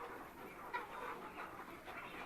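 Sonali hybrid chickens cluck softly in a few scattered short calls, fairly distant and faint against a quiet background hiss.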